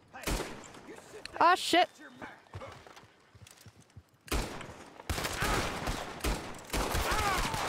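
Gunfire in Red Dead Redemption 2, with sharp bursts and shots clustered in the second half over horse hooves and game noise, loud and close, while someone talks and swears at intervals.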